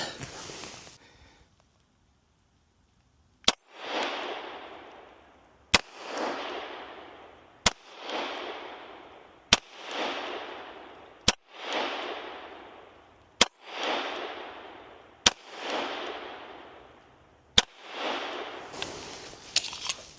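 A Canik Mete SFT pistol fires at a shooting range, with eight sharp, loud single shots spaced about two seconds apart. Each shot carries a bright, decaying echo, and nobody speaks.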